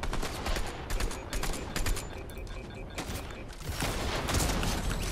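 Rapid bursts of gunfire from a Fortnite match, dense fusillade-like shots layered back to back, loud and close throughout with little pause.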